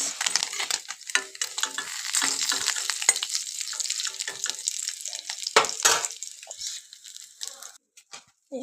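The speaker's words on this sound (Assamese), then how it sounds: "মই মাছ ভাজি আছোঁ, ভাঙন মাছ।" Bhangan fish sizzling and crackling in hot oil in a pan, close and continuous, with occasional scraping from a utensil.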